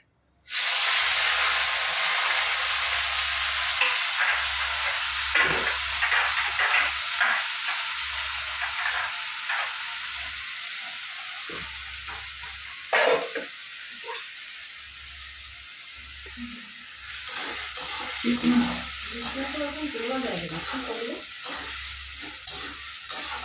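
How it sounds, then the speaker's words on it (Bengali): Grated onion hits hot oil left over from frying bhola fish and sizzles loudly and steadily, with occasional stirring scrapes and a brief clatter partway through. "এই মাছের তেলেই পেঁয়াজটা গ্রেট করে রেখেছি গ্রেটারে, এটা দিয়ে দেবো"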